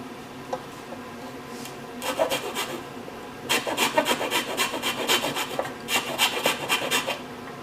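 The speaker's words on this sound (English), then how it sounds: "you could actually just file it out a little more flat" A hand file rasps against wood in quick back-and-forth strokes, starting with a few scattered passes and then settling into a steady run.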